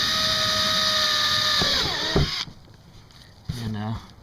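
A power drill with a 5/16 bit bores pilot holes in the plastic of a rear underbody spoiler. It whines loudly and steadily, then winds down and stops; after a short quiet gap, a second brief burst of drilling follows.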